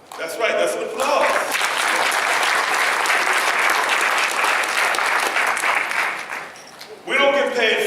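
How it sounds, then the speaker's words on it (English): Audience applause fills a graduation ceremony hall for an adult education class, a steady dense clapping that swells and holds for several seconds before fading, with speech at the start and end. "That's right, that's an applause."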